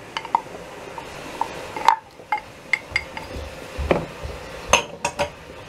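Spoons and metal clink sharply against a pan or dish, several separate taps and chinks, as leftover wine and pepper paste go into a dish of stuffed roasted horse mackerel.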